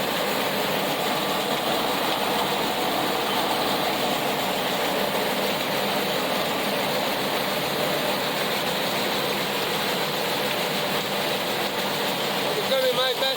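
A tractor engine runs steadily in a field during picking, a constant loud mechanical drone with a rough, rumbling texture that holds without pause from start to finish.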